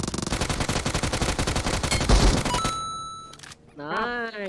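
A battle royale shooter game fires bursts of gunfire in rapid, loud automatic volleys that stop abruptly, leaving ringing tones, followed by a short synthetic game cue.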